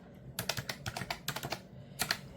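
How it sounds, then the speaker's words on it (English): Calculator keys are pressed to enter a number in a quick series of light, close tapping clicks, some clustered in fast runs, quiet and with no talking. "let's get out our calculator and put in 58"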